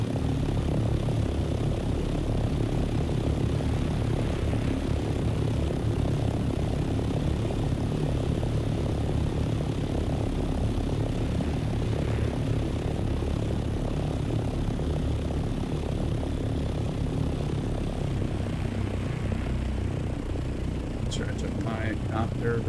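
A copter flies in the desert survival video game Dune Awakening, its propeller engine drone a constant, loud, rumbling hum that runs unbroken from start to end.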